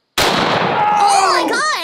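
A 4 bore shotgun fires one huge, loud blast that rings out and decays over nearly two seconds, with whistling, sweeping tones trailing through the echo.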